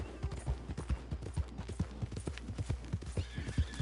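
Horse hooves clip-clopping in a steady trot in Red Dead Redemption 2 online, close and rhythmic, with a neigh breaking in over the hoofbeats.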